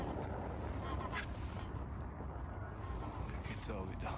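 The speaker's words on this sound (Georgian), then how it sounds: "ბატი კარგად დაფრინავს" Geese fly over during a goose hunt on a mild February morning, their honks distant and intermittent against a steady background hiss, with a low murmur of voices.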